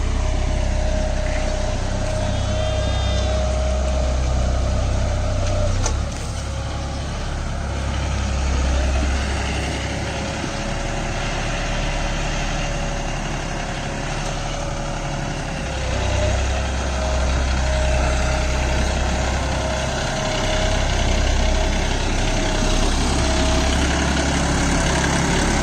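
A John Deere 5310 4WD tractor pulls a Lemken Opal 90 plough through clay soil over red earth, its engine giving a loud, steady, close drone that swells and eases slightly, with no talking.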